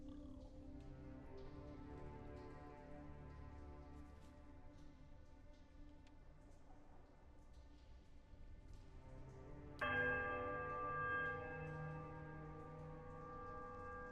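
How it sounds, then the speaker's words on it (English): Three temple bells in the fantasy game Pillars of Eternity ring together in a quiet, melodic chime that enters suddenly and sustains over a low, steady ambient rumble. "There's a quiet melodic chime from all three bells"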